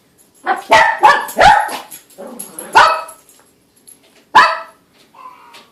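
A puppy barks and yips in a quick cluster of close, high-pitched barks, then one more sharp bark and a faint whimper after a pause.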